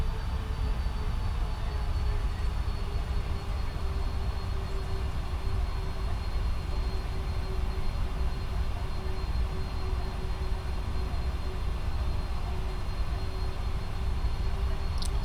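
Boeing 747 jet engines droning steadily at cruising altitude in a flight simulator game, a continuous even whine and rumble with no talking.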